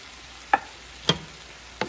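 Beef picadillo sizzles softly in a pan as tomato sauce goes in, with a low, steady frying hiss broken by three sharp stirring clinks spaced about half a second apart. No one speaks.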